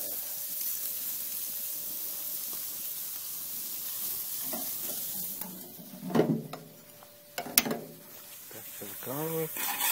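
Steaks cook on an outdoor grill with a steady soft sizzle and hiss. Scattered clanks and handling noises come through, and voices join toward the end.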